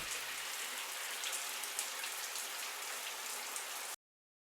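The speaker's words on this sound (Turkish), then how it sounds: "Gir bir de duş alalım." A shower running in the video game Football Life Simulator, a dense, steady hiss of spraying water at constant loudness that cuts off abruptly near the end, with no voices.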